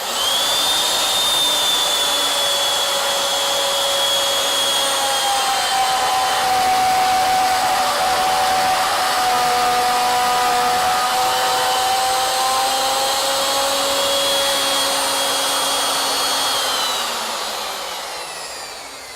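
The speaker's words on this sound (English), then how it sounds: "when we turn the router on, it's not touching the wood" A router spinning near wood on a lathe gives a loud, steady high-pitched motor whine with slowly shifting tones that winds down at the end.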